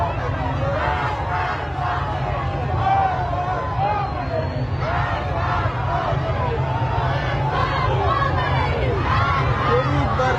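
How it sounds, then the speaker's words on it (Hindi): A dense street crowd at an anti-government protest in Iran chants slogans against Islamic rule, a loud continuous roar of many voices with rhythmic shouted phrases rising and falling throughout. "इस्लामी शासन के खिलाफ ये नारेबाजी हमने आपको सुनाई।"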